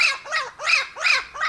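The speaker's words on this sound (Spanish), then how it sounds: "Cuando bajaba, se encontró con una bandada de loros." A flock of parrots squawks in repeated harsh, rising-falling calls, about four loud bursts in quick succession, close and alone with no talk, used as a sound effect in a children's story.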